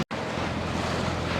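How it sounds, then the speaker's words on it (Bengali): A charpata fishing boat sits on open water near Dublar Char in the Sundarbans. Steady, loud wind and water wash run throughout after a brief dropout at the start, with no talking. "চরপাটাল নৌকা।"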